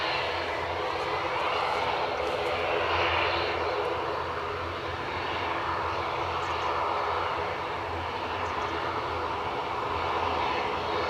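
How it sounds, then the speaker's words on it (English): Airbus A320-200 airliner arriving at Edinburgh airport after a flight from London Heathrow, a broad continuous engine roar heard from a distance, steady and fairly loud for the whole stretch. "We have got an A320-200 inbound from London Heathrow."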